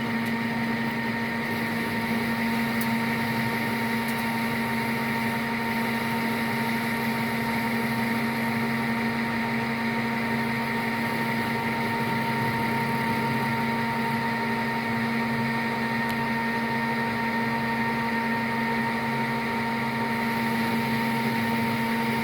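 A metal lathe under power feed cuts a barrel adapter, giving off a steady, loud whine with a constant motor hum that holds unchanged for over twenty seconds.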